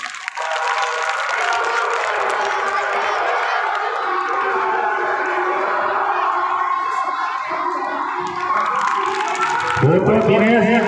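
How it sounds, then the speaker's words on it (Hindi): Applause from a crowd at a school honour ceremony welcomes the honourees, with sustained clapping and cheering throughout and a voice over a microphone near the end. "जोरदार ताली से स्वागत करेंगे।"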